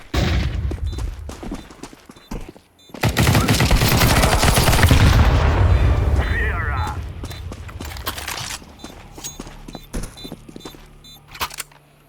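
Gunfire from Counter-Strike 2, with a few sharp single shots followed by a long, loud burst of rapid fire, then scattered clicks and lighter shots; a voice talks over parts of it.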